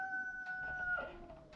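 A faint rooster crow carries from a distance, a drawn-out call over quiet background noise.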